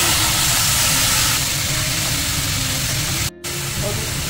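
Chopped radish and green chillies hit hot oil tempered with nigella seeds and a dried chilli, and a loud, broad sizzle rises at once. The hiss holds steady, then cuts out for a moment before it resumes.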